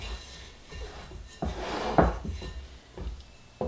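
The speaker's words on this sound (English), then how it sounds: "let me clean my bowl up a little bit here" A mixing bowl gets scraped and cleaned while making honey wheat bread, with soft rubbing strokes and a few clunks and knocks of the bowl, close and quiet.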